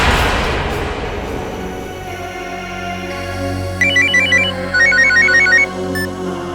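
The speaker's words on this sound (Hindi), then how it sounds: "फिर उसे आमना का फोन आया।" After a low, fading rumble, a telephone rings with bursts of bright electronic trills, repeating a few times.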